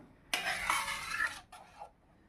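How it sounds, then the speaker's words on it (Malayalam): Rice flakes payasam with milk, cardamom and dry ginger being stirred in a pot for Onam aval pradhaman, a close scraping swirl lasting about a second, then a shorter second stir. "ഇനി നന്നായിട്ടൊന്ന് മിക്സ് ചെയ്ത് കൊടുക്കാം"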